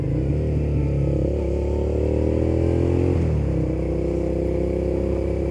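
Motorcycle ridden on a road near a gas station during a commute: a loud, steady engine drone with a shift in pitch partway through, close up with no talk.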